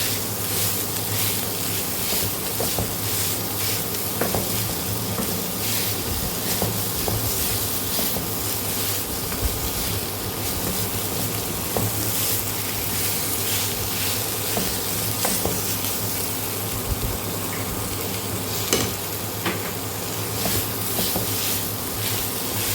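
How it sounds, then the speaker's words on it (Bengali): Potato is stirred into a jackfruit kabab mixture in a hot pan, giving a loud, continuous sizzle and hiss with spatula scrapes and clicks breaking through now and then, close up and with no talking. "এবার আলুটাকে আমি আস্তে আস্তে মেশাতে থাকবো।"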